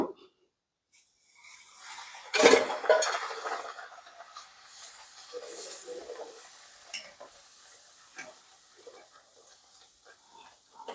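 Puri dough dropped into hot oil in a home kitchen, with a loud splash and hiss followed by a steady close sizzle and bubbling that slowly eases, alone without talk.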